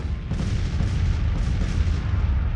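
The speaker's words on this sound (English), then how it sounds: "Captain Henry Hunt, he's been nobbled by some enemy cannon fire somewhere." Civil War artillery fire rumbles in Grand Tactician: The Civil War, a dense, continuous barrage of low booms blending into a rolling roar at moderate loudness.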